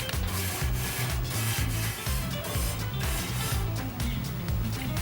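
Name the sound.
grill scraper scraping grease off a grill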